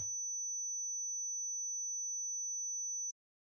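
A steady pure sine tone aliasing at 6,000 hertz, produced in Pure Data at a 16,000 hertz sample rate from a 10,000 hertz input, holds constant and alone for about three seconds, then cuts off abruptly.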